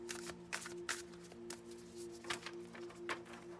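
Tarot cards are shuffled close by in quick, crisp riffling bursts, repeated several times over a faint steady hum.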